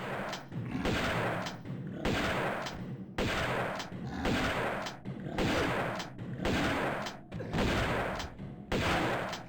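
A shotgun fires in a first-person video game, about ten heavy blasts in a steady rhythm roughly one per second, each followed by a short reverberant tail, loud and close.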